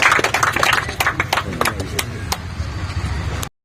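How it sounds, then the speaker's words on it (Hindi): Crowd applause at an outdoor political gathering in Alinagar Jayantipur, Darbhanga, with scattered hand claps rising under loud murmuring voices, then a brief cut to silence near the end. "ताली।"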